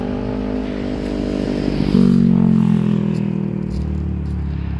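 A car passes close by on the road, its engine loud and droning; the note rises and swells midway, then fades as the vehicle moves off.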